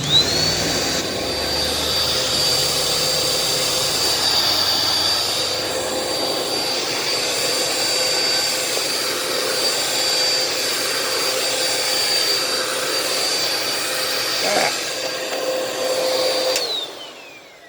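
An old upright vacuum cleaner with a foot switch and missing attachments roars steadily and loud up close, a constant motor whine running throughout before it winds down at the end.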